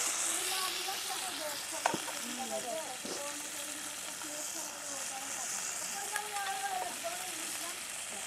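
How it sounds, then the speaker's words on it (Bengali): Garlic and green chilies fry together in oil over a wood-fired stove, giving a steady, close crackling sizzle with occasional stirring knocks while someone speaks quietly. "রসুন কাঁচামরিচ একসঙ্গে ভেজে নেব।"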